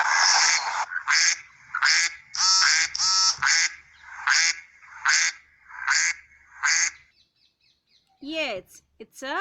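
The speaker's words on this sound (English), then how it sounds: "The sound of duck is called quacks." A duck quacks repeatedly in a steady series of loud, nasal calls, close up, then falls silent before a short rising whistle-like sound at the end.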